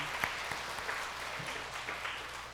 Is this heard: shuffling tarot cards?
no